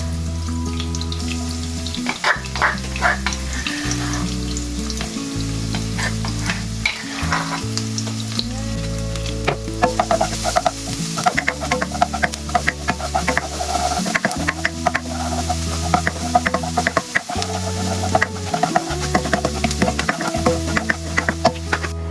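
Onion and garlic sauté in a hot pan for a chayote dish, giving a steady sizzle with occasional stirring, under prominent background music with deep sustained bass notes.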